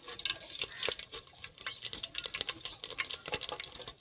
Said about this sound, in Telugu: మరి నూనె అయితే వేడైంది, కొంచెం జీలకర్ర ఆవాలు.